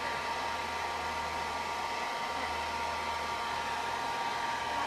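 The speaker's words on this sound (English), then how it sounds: "have my hair dryer turned on high" A hair dryer runs on its high setting, blowing warm air to dry a coffee filter, giving a steady, close whooshing hum with a faint motor whine that stays even throughout without any talk.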